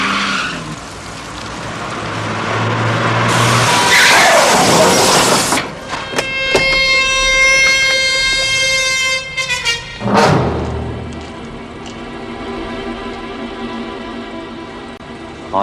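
A car skids with a long, loud tyre squeal, then comes a sharp crunch against the near side wing of another car, followed by a fading screech and a second short skid.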